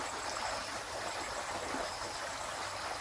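Water flowing steadily with a continuous rushing, trickling hiss, even and unbroken throughout, with no voices.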